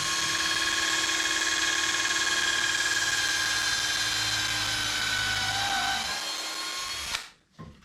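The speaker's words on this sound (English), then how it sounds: "let's just drill all the way through" A power drill whines steadily and close as it bores through a wooden board for a French cleat, holding one even pitch for about seven seconds before spinning down and stopping.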